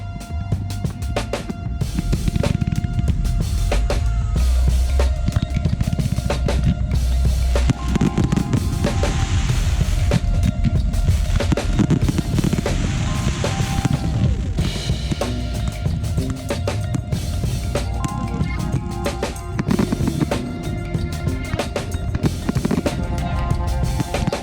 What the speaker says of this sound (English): the day would end with the kickoff of the fireworks display in a spectacular array of pyrotechnics.